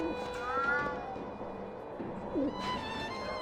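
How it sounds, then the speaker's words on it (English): A cat meows a few times in the video game Alice: Madness Returns, short rising-and-falling cries set against a busy street ambience in a Victorian London market, faint rather than close. "There goes a cat."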